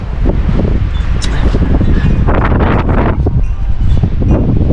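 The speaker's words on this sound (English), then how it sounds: "It's swinging right now, and today there's only about 10 mile/hour winds." Wind at about 10 mph blows through a tall tree around 200 feet high, giving a loud, continuous rush with gusty surges and rustling leaves, roughened by wind buffeting the microphone.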